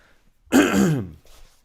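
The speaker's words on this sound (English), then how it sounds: "forgive the chest cough things" A single rough, throaty chest cough, close and fairly loud, followed by a brief quieter huff, then silence.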